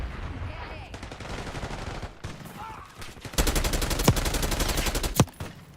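An AK rifle fires in Black Ops 6 in loud automatic bursts. Scattered shots give way to a long, rapid, sustained string of fire with a few sharper cracks near the end, and faint voices sit underneath.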